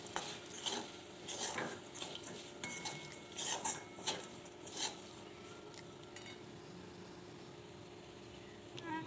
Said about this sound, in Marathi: याला आपण व्यवस्थित मिक्स करून घेऊ।